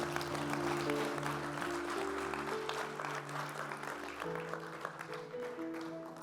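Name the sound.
audience applause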